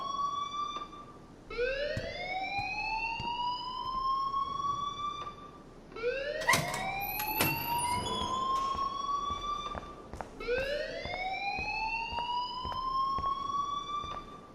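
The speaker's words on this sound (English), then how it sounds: "please turn off that alarm since that's your job" A school alarm wails in the Life is Strange video game, three rising siren-like sweeps repeating every few seconds at a steady, moderately loud level.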